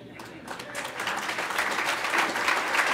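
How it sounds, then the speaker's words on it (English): Enthusiastic crowd applause for a speaker's parking garage announcement at a county address, many hands clapping and building steadily louder over a murmur of voices. "I have never seen that much enthusiastic applause for a parking garage"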